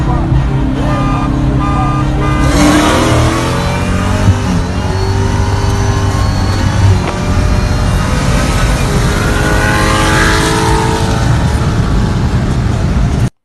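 A supercharged car at a drag track revs loudly and accelerates hard, its engine note climbing steadily through a sustained, close, roaring pull.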